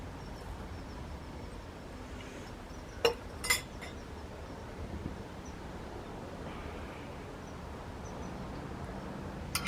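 Spoon stirring homemade lemonade in a glass, with a few sharp clinks partway through and a final tap at the end over a steady background hiss; nobody talks.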